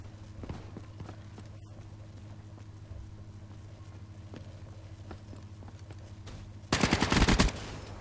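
A short, loud burst of rapid automatic gunfire in Call of Duty: Black Ops 3 near the end, preceded by faint scattered thumps and ambient noise.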